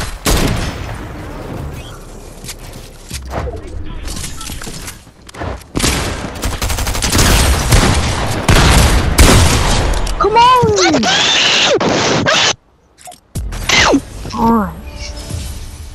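Video game gunfire comes as bursts of rapid shots and blasts mixed with mechanical clanks and whooshing effects, with loud stretches, sudden drop-outs to near silence and voices talking over the action.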